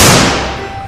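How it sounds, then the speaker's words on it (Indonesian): A toy Beretta pistol fires one sharp, loud crack that rings out and fades over the following second, with no other sound around it. "Pistol Beretta."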